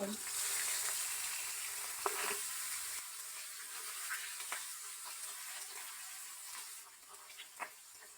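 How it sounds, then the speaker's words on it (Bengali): Hilsa fish fry in a kadai with a steady, fairly quiet crackling sizzle that softens partway through, with a few light clicks and taps scattered over it. "এই যে মাছগুলো কড়াইয়ের ভিতরে দিয়ে দিয়ে আসছে এটাকে সুন্দর করে ভাজা হবে"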